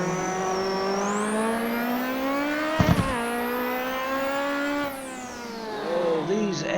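Zakspeed Capri Group 5 race car in Assetto Corsa, its engine a loud, close, rising scream through the gears, with a sharp shift break midway, then a falling pitch as it brakes and downshifts; someone talks over it.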